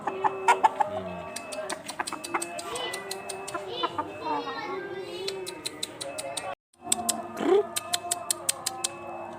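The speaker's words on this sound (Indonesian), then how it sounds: "Ini ayamnya makan toge nih ya." Chickens cluck and peck while eating bean sprouts in a village yard on an afternoon, with scattered sharp taps and clucks close by and people talking intermittently over them.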